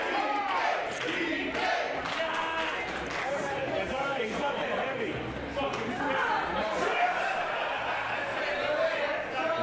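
A wrestling crowd at an Inspire event cheers and shouts continuously with dense, reverberant noise, while a commentator's voice talks over it.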